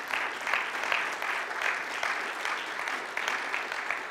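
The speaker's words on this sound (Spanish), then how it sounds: "Dale el aplauso de alabanza a Él." A church congregation claps in praise during a sermon, a sustained wash of many hands at moderate distance, swelling and easing in waves without a break.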